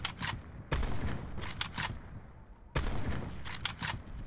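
Heavy gunfire bursts in Call of Duty Blackout, two loud volleys of rapid shots with sharp onsets separated by quieter stretches of scattered reports.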